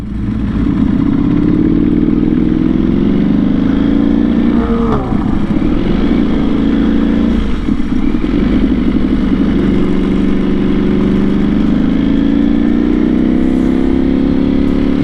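Ducati V4 SP sport bike fitted with an SC Project full titanium exhaust, its engine running loud and close with a steady deep drone and brief rises in revs, alone without any voices.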